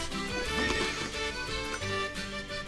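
Pony neighing in the Horse Haven video game, a bright whinny with clip-clop hooves, set against a dense, busy game soundtrack with no talking.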